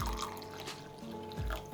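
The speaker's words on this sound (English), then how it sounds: "We have some cow stock, and we're gonna add some boiling water to it." Boiling water is poured onto cow stock for a pepper sauce, heard as a faint, brief liquid trickle and splash with no talking.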